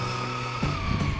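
A Losi Promoto MX radio-controlled motorcycle on a 2S battery runs at full throttle, giving a steady, high-pitched electric motor whine with a faint tire scrub near the end, loud and continuous with no voices.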